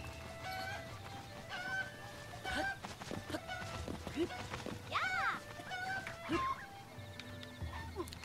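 Chickens cluck and squawk in The Legend of Zelda: Breath of the Wild around Kakariko Village, several short calls scattered over game sounds and background chatter, fairly close but not loud.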